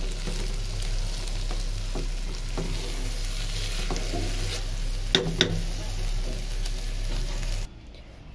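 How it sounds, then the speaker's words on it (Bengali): Rice and meat are stirred together in a hot frying pot, about a kilo of rice with one and a half kilos of meat, sizzling steadily and loudly with scraping stir strokes before the sound cuts off abruptly. "চালটা কিন্তু ভালো করে নাড়াচাড়া করতেছি মাংসের সাথে।"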